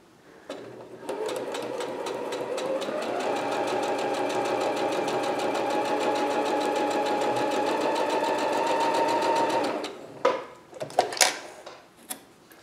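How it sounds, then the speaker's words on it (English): Sewing machine stitching diagonally across a quilt block, one long steady whirring run lasting about nine seconds, close and even, then stopping with a few clicks and handling knocks. "Sew it all the way through."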